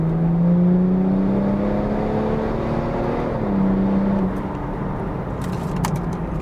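A remapped BMW 430d with the N57 diesel, big turbo, intercooler and downpipe pulls hard in fourth gear, its steady engine drone rising in pitch from inside the well-insulated cabin with a brief gearshift dip midway.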